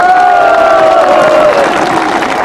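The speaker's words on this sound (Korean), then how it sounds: "여러분 다시 한번 큰 박수 부탁드립니다" A loud outdoor Korean election rally crowd protesting illegal civilian surveillance claps and cheers, with a continuous roar of voices and a whistle-like tone rising over the noise for about two seconds.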